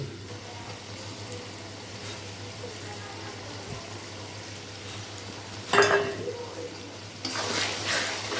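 Ginger-garlic paste, onion paste and green chilli paste begin frying in a pan for a turmeric-free white meat curry: a low, steady hiss that swells into a brief sizzle burst and then a louder, sustained sizzle near the end.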